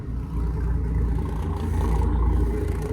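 A Doral 360SE boat's engines idle steadily with exhaust outlets at the waterline on both sides, a close, continuous low rumble with a faint mechanical clatter, no talking.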